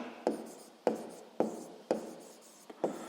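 Pen strokes on paper during a sixth-grade math lesson, five or six distinct scratchy marks spaced about half a second apart, close and alone with no talking.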